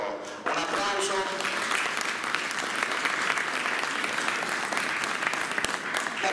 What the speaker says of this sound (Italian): Francesco Sacco, Bonacci Francesca e Greta Sacco, un applauso.